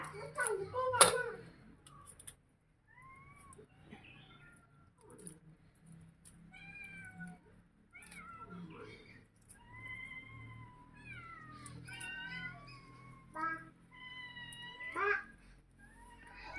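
Several cats meow repeatedly around someone cleaning fish at home, a string of rising and falling cries coming close and clear over a soft background with faint voices and a few sharp knocks.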